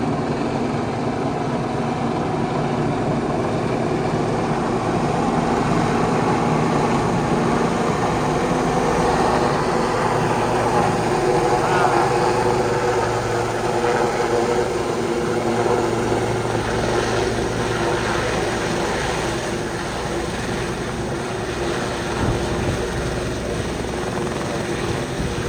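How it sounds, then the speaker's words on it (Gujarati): Helicopter approaching with a loud, continuous rotor and engine drone that holds steady throughout, heard outdoors with no talking. "આવે ગો હેલિકોપ્ટર."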